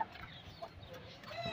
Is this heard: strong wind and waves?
no